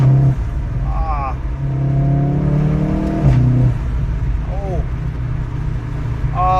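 A VW Golf 7.5 R engine revs up and drops back repeatedly as it shifts through the gears, with clear rising pitch sweeps heard close up under someone talking.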